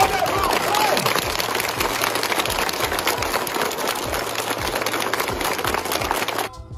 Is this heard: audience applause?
yes